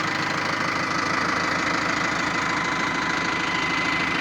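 An Arjun 605 tractor engine runs steadily close by, a loud continuous diesel chug with a rapid knocking pulse and no pauses.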